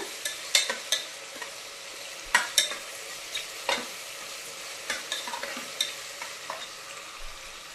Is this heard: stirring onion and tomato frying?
yes